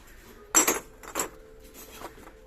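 A ceramic relief pot with a bamboo lid being handled, giving a few sharp close clinks and knocks followed by softer taps.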